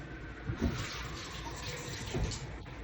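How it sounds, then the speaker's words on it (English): Hands being washed under a running kitchen tap, a quiet steady stream of water with a couple of soft splashes as the hands move through it, no talk. "Just make sure you wash your hand"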